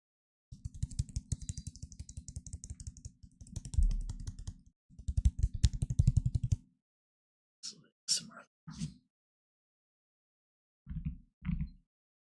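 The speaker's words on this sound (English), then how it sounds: "by unsleeving my current cards" Trading cards being pulled out of inner sleeves and Japanese card sleeves, bursts of rapid crinkly plastic rustling and sliding, then a few sparse soft taps and rubs, close and quiet in an otherwise silent room.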